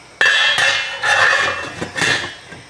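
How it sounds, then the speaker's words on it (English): A metal lid set onto a pot of matzo ball chicken soup: one sharp clank, then a few lighter metallic clinks and rattles as it settles, close and clear. "And now what we're going to do is put the lid on."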